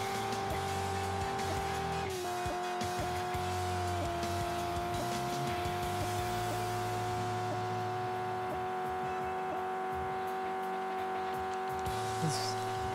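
A car drifts in a racing video game, its engine droning and revving steadily with tire squeal and skidding, loud and continuous over game music.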